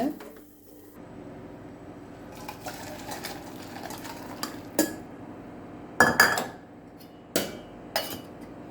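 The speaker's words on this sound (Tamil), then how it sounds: "ஸ்டவ் ஆஃப் பண்ணிவிட்டு ரசத்தை வேறு பாத்திரத்துக்கு நம்ம மாற்றிக்கலாங்க" Metal vessels clink and scrape as rasam is poured from a pot into another vessel in a home kitchen after the stove is switched off, with several sharp clanks standing out over a low background hum.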